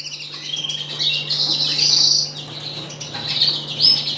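Variegated and clear canaries in breeding cages, a cockbird housed with hens, chirping and tweeting in quick high bursts that rise and fall throughout, fairly close, with a faint steady hum underneath and no talking.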